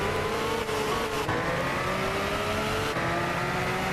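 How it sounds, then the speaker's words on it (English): Turbocharged car engine in Gran Turismo 6 powering up a hill, a loud steady drone with rising tones through the gears, alone and close throughout. "I can already hear the turbo powering the car up the hill"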